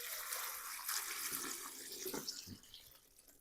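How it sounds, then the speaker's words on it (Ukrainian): Water pours and splashes steadily over strawberries in a half-filled bucket, like a tap filling a container, then trails off toward the end. "І тепер заливаю її водою"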